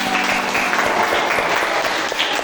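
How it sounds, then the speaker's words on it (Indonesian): A school class applauds a pupil after a lesson activity, a loud, close burst of many hands clapping quickly and unevenly, with a faint voice briefly underneath. "kasih tepuk tangan"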